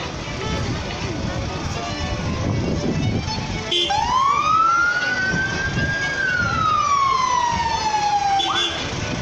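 A fire brigade engine's siren at the St. Patrick's Parade in Nenagh, 2019, rising and falling in one long, loud wail close by, over crowd noise and someone speaking on a public address.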